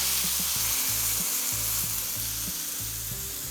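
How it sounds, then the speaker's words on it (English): Lamb chops searing on a hot barbecue grill give a steady, close, loud sizzle with a faint low hum beneath, and no voices. "And now we're ready to sear."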